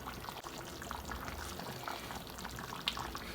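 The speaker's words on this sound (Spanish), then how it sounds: "yo ya le apagué aquí a la lumbre y de todas formas sigue hirviendo" Chicken and potato stew keeps bubbling in a clay pot after the flame is turned off, a soft, steady simmering burble heard close and quiet without talk.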